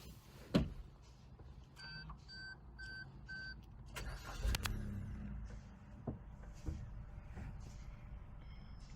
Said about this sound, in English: Let me show you what this car does when you start her up.